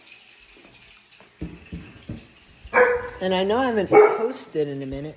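A dog barks several times in quick bursts, loud and close, after someone speaks briefly indoors, with faint running water in the background.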